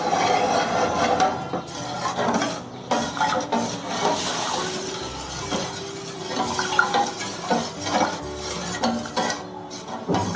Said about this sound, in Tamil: இந்த மாதிரி கிளறும் போது அப்படியே கொஞ்சம் கொஞ்சமா அப்படியே கெட்டி ஆகிட்டே வரும்